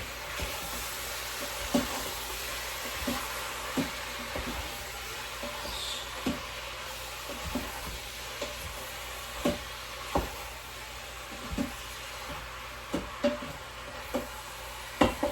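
Meat and onions for Czech goulash sizzle steadily in a pot, a constant frying hiss punctuated by regular scraping clicks of stirring, with no talking.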